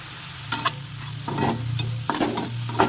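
Fenugreek greens sizzling in a pan of frying reddened garlic and green chilli, a steady hiss with several sharp crackling bursts as the greens are stirred, close by.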